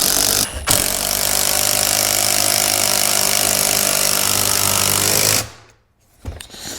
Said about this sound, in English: we're gonna drive some lag bolts into this guy right here